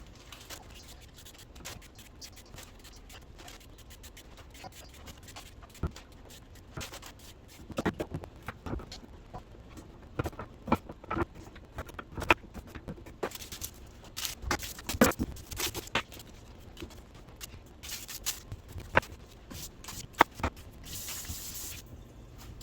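Onions being cut with a knife on a cutting board while vegetables are prepped for a crockpot pot roast, giving irregular crisp taps and scraping strokes at close range, fairly quiet, with no talking.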